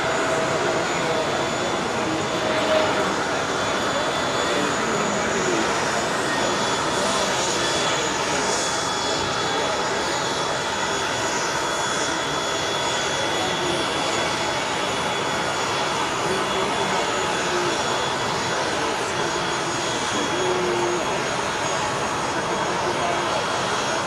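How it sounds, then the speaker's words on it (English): A jet airliner at the 2023 Paris Air Show makes a slow fly-past and comes in to land, its engines giving a continuous, loud, steady roar that fills the whole stretch. "Slow fly past. Where's he landing it?"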